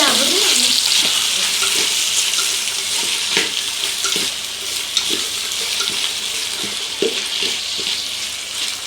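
A pan of biryani base with tomato and beef sizzles and fries steadily while being stirred, with scraping and clinking of the spoon over a constant hiss and no talking.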